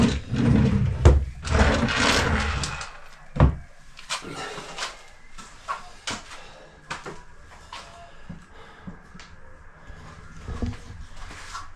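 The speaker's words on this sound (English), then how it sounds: "all the drawers work." Drawers of a blind corner kitchen cupboard slid open and closed repeatedly, close clattering bumps and thuds, heavier at first and then a run of lighter knocks tapering off.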